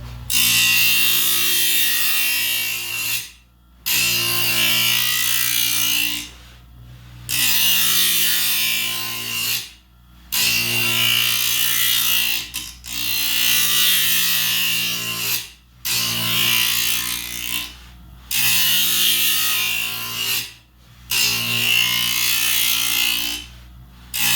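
Planer blade ground on a Grizzly sharpener, a steady hissing, grinding whine that runs in long passes of about three seconds, each broken by a short silent pause as the stroke reverses, close and loud with no talk.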